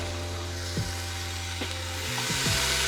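Four halved bacon strips frying in a hot Instant Pot on the saute setting, a steady sizzle under a continuous low hum, with a few soft scraping or stirring touches.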